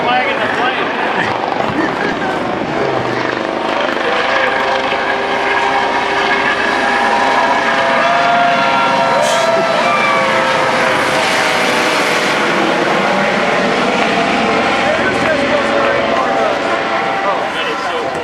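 A low-flying aircraft passing overhead at a POW-MIA ceremony, a loud sustained engine drone that swells and fades while voices talk over it.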